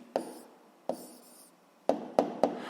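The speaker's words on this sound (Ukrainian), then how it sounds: "Гаразд записуємо відповідь, пишемо відповідь." A pen writes an answer to a physics problem in short scratching strokes, about five quick bursts with pauses between them, close by and quiet.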